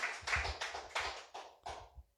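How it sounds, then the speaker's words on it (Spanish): A church congregation claps during a Spanish-language sermon in a few loud, rhythmic bursts, about six sharp hand-claps in unison that are close and distinct before ending abruptly. "Dele fuerte aplauso al Señor."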